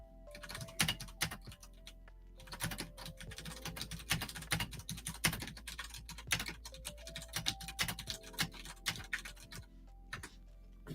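Rapid clicking of computer keys as a chat message is typed during a live stream, steady bursts of keystrokes close up with no talking over them.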